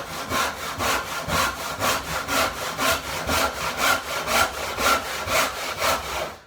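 A hand saw cuts timber held in a vise with steady back-and-forth strokes, roughly two per second, each a close, rasping pass with no talk.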